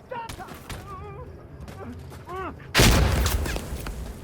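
Grenade explosions and gunfire in the video game Insurgency: Sandstorm, with scattered shots and radio chatter early on, then a loud, close blast that rumbles and fades over the last second and a half.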